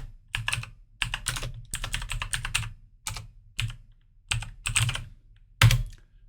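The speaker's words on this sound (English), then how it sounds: "type in my data description there" Typing on a computer keyboard to enter text in a blank word-processor document, heard as close, quick bursts of key clicks separated by short pauses, with no talking.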